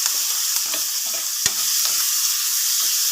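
Onion and garlic sizzle in hot oil in a pan for ginisang repolyo, a steady bright frying hiss broken by a few scraping stirs of the spatula.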